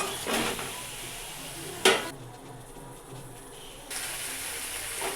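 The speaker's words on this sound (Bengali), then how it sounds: "এখন মাংসটা দিয়ে দেবো।" Chicken is added to a fried ground spice paste for chicken kosha, a steady close sizzle with scraping and a sharp clank of a utensil against the pot.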